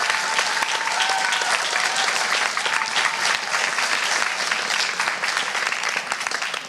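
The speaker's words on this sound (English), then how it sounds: "clap in the room if you really liked that one" A conference audience claps together in a room, dense sustained applause that stays steady and loud throughout with no voices over it.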